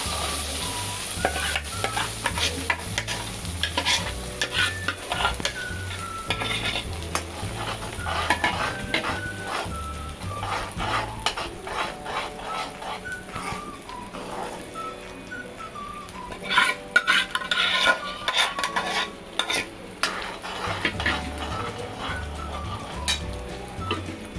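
Ground spices sauté in butter in a pan for a pea and paneer curry, with a spoon stirring and scraping steadily amid a soft sizzle and occasional metallic clinks, no voices.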